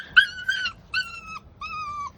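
A puppy whimpers during a bath, giving three drawn-out, high whining cries in a row at close range over a low background rumble, with no talking.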